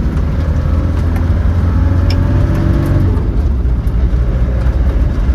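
A 1996 Land Rover Defender 90 with the 300tdi diesel engine drives along steadily, a loud continuous low drone and road rumble heard from inside the cab with no one talking.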